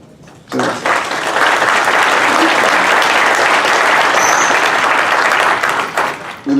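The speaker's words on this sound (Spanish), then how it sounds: "un aplauso también para los consejeros electorales y miembros del Tribunal Electoral, por favor." Sustained applause from a large crowd at an electoral system forum, starting after a brief quiet moment and continuing steadily at full volume to the end.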